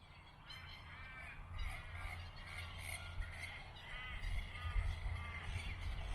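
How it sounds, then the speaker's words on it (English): Crows caw repeatedly in the early morning around a small country town in Victoria, Australia, several birds calling at a moderate distance over steady low outdoor rumble, with no one speaking. "But the crows are very happy this morning, as well as the magpies that I can see."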